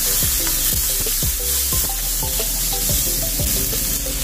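Tomato and tuna sizzle steadily in a hot frying pan while a utensil stirs them, scraping in a regular rhythm of strokes, close and loud with no voices.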